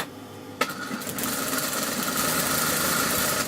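A sewing machine stitches a garment seam, starting with a click and then running in a fast, steady whirring hum close by, with no talking.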